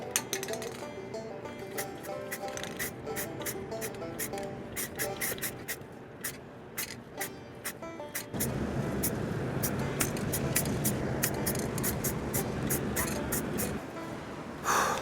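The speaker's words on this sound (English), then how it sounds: "I'm gonna try to spray from about a foot away." Spray paint hisses from about a foot away as a khaki base coat goes onto a GoPro Hero 3 case, a steady broadband hiss starting midway and holding for about six seconds after quieter clinks and handling.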